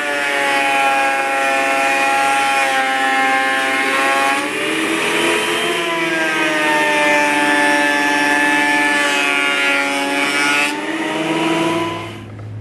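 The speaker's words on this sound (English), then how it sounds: "So we'll run it through the thickness planer a bit." A thickness planer working a cedar board, a loud sustained mechanical whine with strong steady harmonics, shifting slightly as the board feeds through, and winding down near the end.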